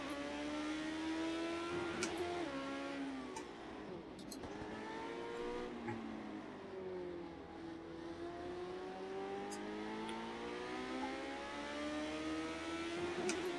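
A race car engine in Project Cars 2 revving high and steady, pitch rising and falling through gear changes with brief tire squeal, loud and continuous throughout.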